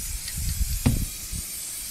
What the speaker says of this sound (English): We're going to spray a whole bunch of red.